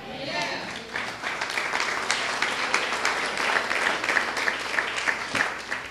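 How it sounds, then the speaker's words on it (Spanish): Church congregation applauding during a sermon, a broad clapping wash that swells after a quiet start and runs throughout, with a voice and some tonal sounds mixed in over it. "Y ustedes sí están aplaudiendo"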